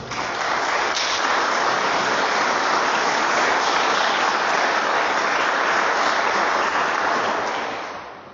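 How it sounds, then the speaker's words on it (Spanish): Church congregation applauding, a dense continuous roar of clapping that fills the room loudly and evenly for several seconds before tapering off at the end. "Y le dan un fuerte aplauso al Señor"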